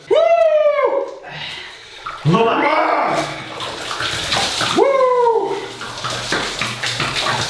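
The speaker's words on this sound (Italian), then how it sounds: "E in seguito si va a versare 20 litri d'acqua fredda addosso." About twenty liters of cold water are poured over a very large young man right after a sauna, splashing heavily for several seconds while he lets out loud, drawn-out shouts.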